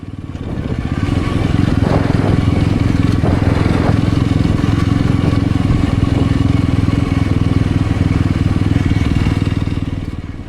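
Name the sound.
Yezdi Roadster 2025 motorcycle riding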